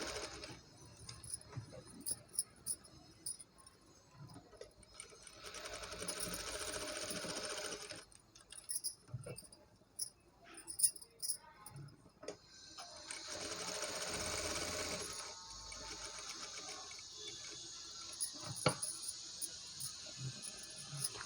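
A sewing machine stitches a baby blouse in quiet surroundings. Two longer steady whirring runs stand out between stretches of faint clicks and handling noises.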